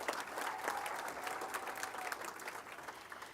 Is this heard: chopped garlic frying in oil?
no